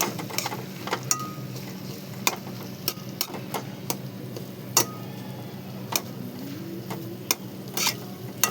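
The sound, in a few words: fish roe bhurji frying and being stirred in pan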